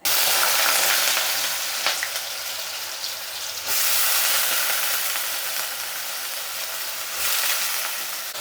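Potatoes frying in hot oil in a home kitchen give a loud, steady sizzle with a few brief stirring scrapes, and no voices.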